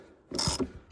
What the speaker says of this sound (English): These little Harbor Freight ratchets here, 3/8 on one side, 1/4 on the other.